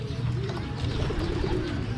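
Several pigeons coo in low, throaty murmurs over a steady background hiss, the soft calls overlapping continuously.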